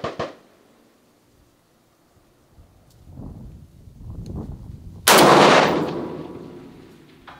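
Long-range practice shot from an FN SCAR 20S rifle: one sharp, loud blast cracks out and fades over a couple of seconds, after quieter rustling and handling noise, with no talking during the shot.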